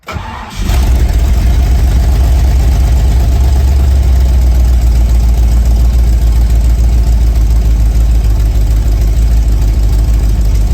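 A 1970 Ford Falcon engine cranks briefly and catches, then settles into a loud, steady, close-up idle running throughout, with no talk.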